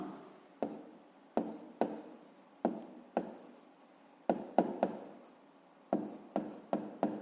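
A pen writes in a school exercise book during a fifth-grade maths exercise, a quiet series of short scratching strokes in irregular bursts, close up with no talking.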